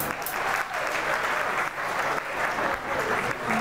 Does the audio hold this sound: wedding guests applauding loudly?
yes